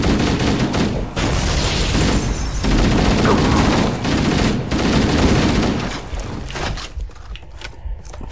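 Rapid gunfire and grenade blasts fill the Halo: Combat Evolved battle on Xbox, a loud, dense fusillade of shots with brief pauses that thins out near the end.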